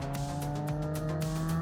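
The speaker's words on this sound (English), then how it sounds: "it's an absolute gas to twist the stick and hear it go." A Triumph Trident 660 motorcycle engine revs loud and close for a moment, with a steady droning tone and short rasping surges on top and no voices.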